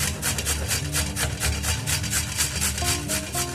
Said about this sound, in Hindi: पहले हम हल्दी को कद्दूकस करेंगे